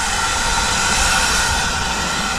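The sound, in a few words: steam train at a heritage railway station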